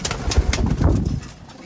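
Pigeons in a breeding loft coo in low, repeated throaty pulses at close range, with a few soft flutters and shuffles, fading slightly toward the end.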